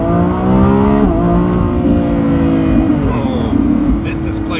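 Lamborghini Revuelto's 1,001 hp engine revving hard at launch in Corsa mode, a loud, dense, continuous roar with pitch rising and dipping as the throttle is worked, close and sustained throughout.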